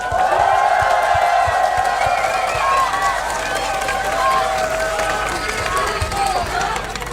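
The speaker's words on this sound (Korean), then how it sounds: "제 얘기에 동의하신다면 박수와 환호를 보내주시기 바랍니다." Crowd at an outdoor political rally cheering, whooping and shouting with scattered clapping, loud and sustained throughout, with voices mixed into the din.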